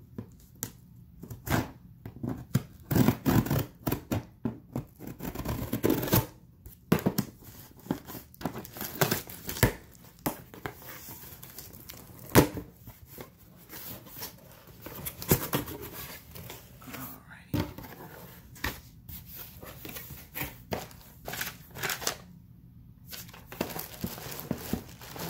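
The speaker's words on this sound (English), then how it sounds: "So comes in plastic bag here, and I'm going to open this up" A plastic bag holding a Coach Rowan File crossbody handbag is opened, crinkling, rustling and tearing in irregular bursts up close, with a quiet voice talking through it.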